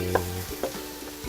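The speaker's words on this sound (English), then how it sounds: "Stir the mushrooms." Mushrooms fry in hot oil while being stirred, a soft steady sizzle under a few quick scrapes of a spoon against the pan, fairly quiet with no voices.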